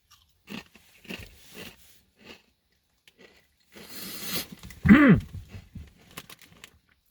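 Crisp bites and crunchy chewing of a pickle-flavored, Dorito-style tortilla chip, heard close up as a few separate crunches with quiet pauses between them and one louder burst near the middle.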